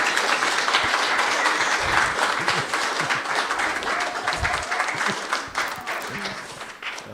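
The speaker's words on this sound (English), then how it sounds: "can we get a big cheer" An audience at a live media event for The Book Clurb applauds with sustained, dense clapping that slowly tapers off, with a faint voice underneath.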